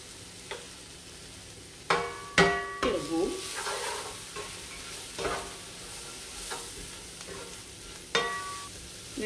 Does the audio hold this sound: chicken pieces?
yes